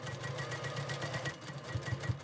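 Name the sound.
sewing machine stitching quilt block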